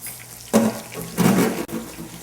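A small splash of water is poured into a glaze mixture in a kitchen, two short close pours with a brief pause between them, heard alone.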